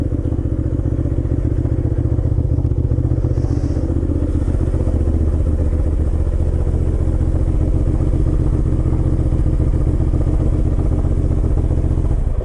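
Motorcycle, a larger road bike than a pit bike, being ridden with a steady, loud engine drone and wind rumble throughout, with no talking.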